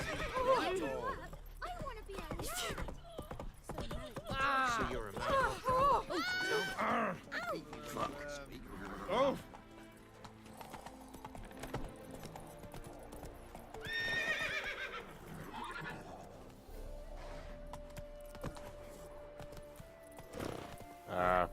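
Roach, Geralt's horse in The Witcher 3, neighs and whinnies loudly while hooves clip-clop at a gallop. Game voices and talk run over it.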